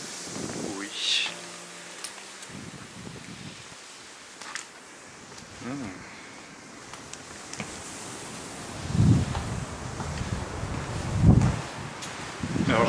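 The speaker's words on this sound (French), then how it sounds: "je m'excuse par avance à cause du vent, hein. Mais on est en plein front de mer" Blustery seafront wind buffets the microphone as a steady roar, swelling into heavier low gusts toward the end.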